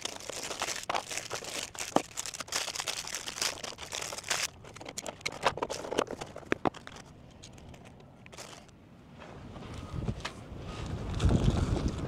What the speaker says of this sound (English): Told you it was windy.